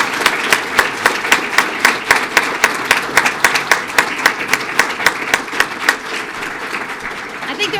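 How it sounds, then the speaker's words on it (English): Audience applause at a police swearing-in and promotional ceremony, a steady run of individual claps with sharp regular peaks, fairly close and loud, lasting throughout with crowd clapping filling the background. "Let's give them a round of applause."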